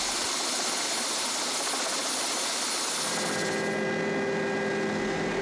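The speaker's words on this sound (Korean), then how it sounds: "샌프란시스코의 전체를 보기 위해 공항으로 가서 헬리콥터 투어를 하기로 했다." A helicopter on a sightseeing tour over San Francisco drones loudly and continuously, the close rotor and engine roar filling the whole stretch with no voices.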